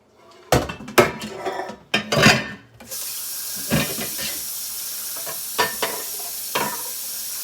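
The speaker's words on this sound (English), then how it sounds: "now Brian, you're going to get a personal class on how the cooking camper does his dishes." Dishes, pots and cutlery are washed by hand at a camp. Metal and ceramic clatter loudly and close in irregular bursts over a steady hiss of running water or sizzling.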